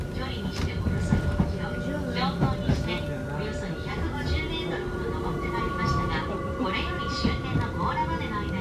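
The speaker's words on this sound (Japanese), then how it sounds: "ただいま電車は千分の80の急坂を登っています。" A Hakone Tozan Railway mountain train rumbles and clatters steadily as it climbs an 80-per-mille grade, with a voice speaking over the rolling noise.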